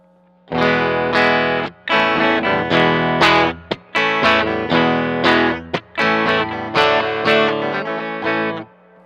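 A Fender American Professional II Jazzmaster electric guitar plays a run of distorted chords and notes, reverb turned down, fairly dry with little lingering echo, close and loud.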